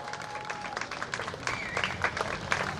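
A crowd applauds the winner of the Carp Valley Cup final at the Zator town and commune festival, giving steady, fairly faint clapping from a mid-sized outdoor audience with irregular bursts throughout.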